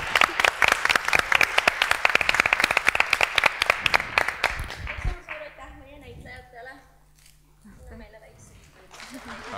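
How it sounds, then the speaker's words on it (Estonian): Audience applause fills a theatre hall at a forum theatre event, dense loud clapping for about five seconds before fading out, followed by quieter talk and scattered sounds. "Mina teeks aplausi veel Jokerile ka"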